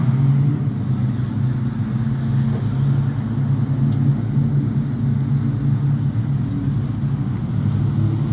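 Speedway race car, the number 78, circling a dirt oval at Rushworth Speedway, a steady loud engine roar and low rumble holding constant throughout without breaks.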